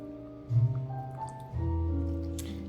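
About a cup of water pours into a salad dressing mixture during fresh summer salad prep, a close, soft liquid splash and trickle with two brief surges.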